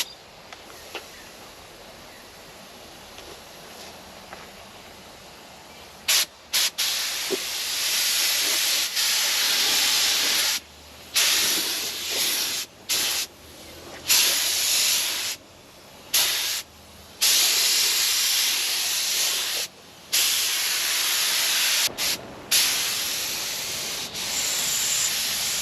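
A spray gun lays a first coat of paint over primed areas of a Holden Commodore bar indoors, a loud close hiss in long bursts broken by short gaps, starting after a few quiet seconds, with no talking.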